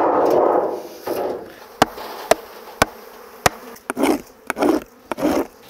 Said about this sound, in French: Il faut que j'enlève les abeilles que j'ai là-dedans et là-dedans.